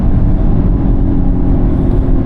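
A Genesis GV80 Coupe launching hard in launch mode, with a loud, close, deep engine rumble and drone building steadily under acceleration.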